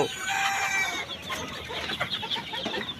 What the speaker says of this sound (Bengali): এই যে সিল্কি মুরগি।